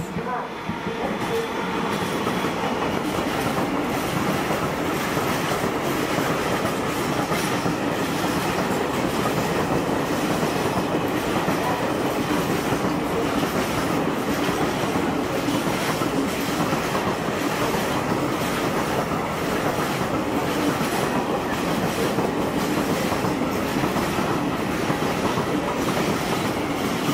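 A train rolls through Bremen main station with a continuous loud rumble and rhythmic clickety-clack of wheels over rail joints, a faint wheel squeal, and station announcements in the background.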